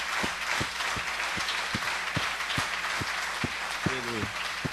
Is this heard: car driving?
no